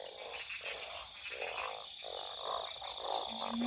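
Narrow-mouthed frogs croak from a canal at night, repeated pulsing calls overlapping in a steady chorus, with a thin, high insect-like whine running above them.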